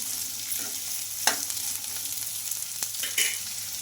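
Vegetables frying in a pan for homemade wheat-flour noodles, with curry leaves dropped in, give a steady close sizzle broken by a few sharp crackles and stirring scrapes.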